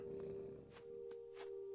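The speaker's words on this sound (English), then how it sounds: "And I'm purring." A cat purrs in the video game What Remains of Edith Finch, a soft, faint, continuous hum with a few gentle breathy swells, heard alone without speech.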